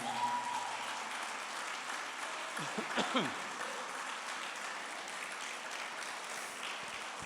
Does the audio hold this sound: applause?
yes